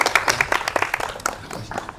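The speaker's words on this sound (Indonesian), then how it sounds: "Boleh minta tepuk tangan sekali lagi?" A small audience at an Indonesian public-speaking practice session claps in scattered, uneven bursts, with individual hand claps standing out over two seconds, moderately close and fairly light.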